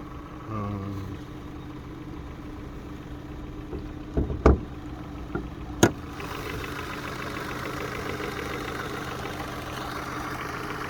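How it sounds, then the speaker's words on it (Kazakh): A Kia Optima car engine hums steadily and evenly at an idle, with a few sharp knocks and clicks partway through. "Көрүп атасыңар мотордун иштегени ровный, жакшы эле иштейт"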